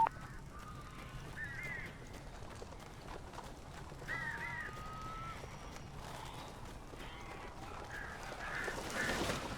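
Crows cawing in the Alan Wake video game: several short harsh calls come in bursts at moderate distance over a steady ambient bed, with no voices.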